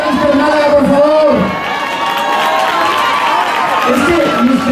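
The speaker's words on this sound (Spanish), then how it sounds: "¡Un aplauso para Mister Málaga, por favor!" A festival crowd at the Feria de Ojén 2016 cheers and claps loudly for Mister Málaga. Many voices shout and whoop close by, and the noisy crowd dips for a moment before swelling again.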